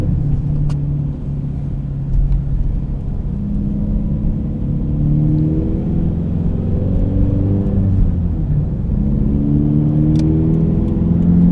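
A 2013 Subaru BRZ Premium with a six-speed manual pulls hard while driving, its engine droning steadily and rising in pitch through the gears, loud and close from inside the cabin, with no talk.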